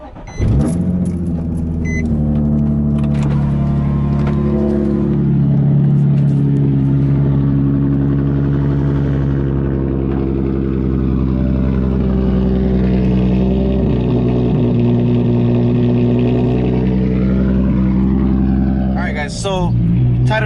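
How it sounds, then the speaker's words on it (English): A Nissan 350Z with a cheap aftermarket exhaust cold-starts with a sharp crank and flare, then settles into a loud, steady, deep idle close by, with a brief blip near the end. "A little cold start action."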